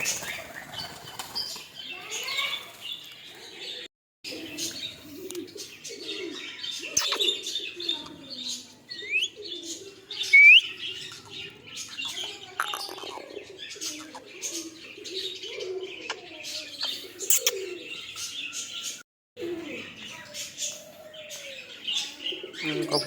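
Pigeons coo in low, rolling calls while budgies chirp and wings flap in bursts close by, and a voice calls out now and then over the birds.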